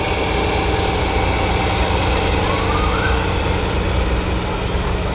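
A John Deere tractor, about a 1962 or 1963 model with an inline engine, runs steadily at a parade, giving a loud, even mechanical drone with no pauses.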